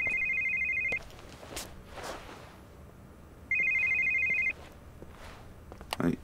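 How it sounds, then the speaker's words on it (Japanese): A telephone rings in the video game Yakuza 5, two electronic ring bursts about two and a half seconds apart with quiet game sounds between and a brief voice near the end. "ん？ 電話やね。"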